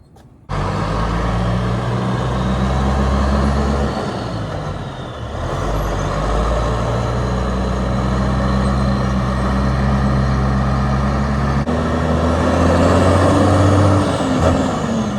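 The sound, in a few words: tanker truck driving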